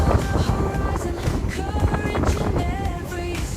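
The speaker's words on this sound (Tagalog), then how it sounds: "Hangin, grabe." Strong wind in El Nido, Palawan, buffets the microphone in loud, rumbling gusts, with faint voices and a tonal hum underneath.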